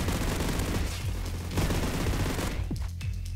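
Rapid bursts of fire from the Chris gun in an energy assault shooter game, a dense, loud, continuous stream of shots that thins out near the end.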